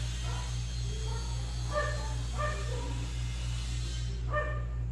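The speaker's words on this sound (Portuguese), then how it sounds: "Vai continuar assim esse cachorro latindo." A dog barks outside in short, separate bursts, heard faintly and somewhat distant over a steady electrical hum, with no one speaking.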